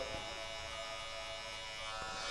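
Hair clippers with the half guard on buzz steadily and close up, detailing a taper on a textured crop mullet haircut, a continuous electric hum with no talking.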